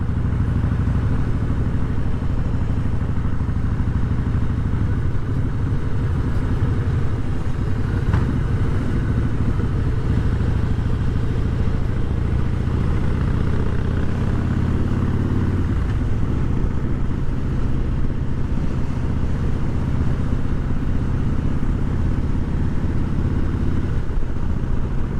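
A Harley-Davidson Fat Boy motorcycle cruises along a road at about 30 mph, its engine a steady, loud low rumble with wind noise, continuous and close throughout.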